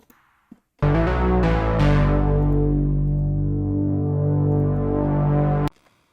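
A single deep, sustained bass note from the Serum synthesizer swells in and holds for about five seconds, then cuts off abruptly.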